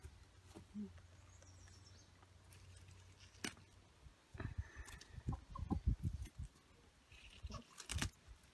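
A rooster clucks and calls in a few short, scattered bursts at close range, mixed with faint barnyard stirrings and other fowl noises against a quiet background.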